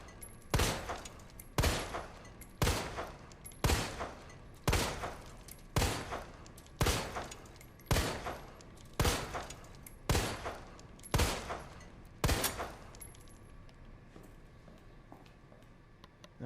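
Handgun fired in Resident Evil 2 Remake during Claire's story: about eleven sharp, loud shots spaced evenly roughly a second apart, each with a brief echoing tail, then quiet room tone.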